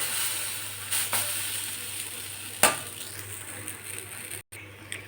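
Ragi adai batter hits hot oil on a dosa pan and sizzles faintly and steadily. Soft scrapes and clinks of utensils cut through now and then.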